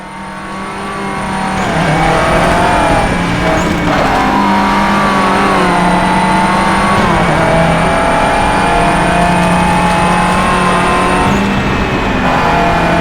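Loud, continuous engine howl of a Subaru or Toyota rallycross car in the DIRT video game, rising and falling with revs and gear changes, with faint tire noise and no talking.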